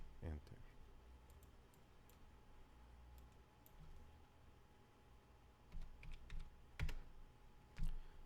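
Computer keyboard keys tapped at a desk with a low constant hum, quiet scattered clicks building to a few sharper presses near the end, one louder keystroke like Enter; a voice speaks faintly underneath.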